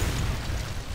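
A bomb explodes in the dungeon-crawler game Legend of Grimrock 2, a dense, loud, rumbling blast that fills the whole second without letup.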